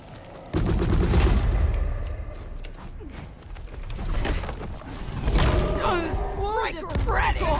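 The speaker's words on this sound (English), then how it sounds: "Who the fuck is shooting?" Video game gunfire, bursts of shots and thuds under loud overlapping game sounds, with a voice speaking over the action.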